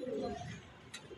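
A Budapest racing pigeon, a female, gives a brief low coo at close range, soft and short, followed by a faint rustle.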